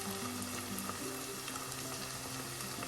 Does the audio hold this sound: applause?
no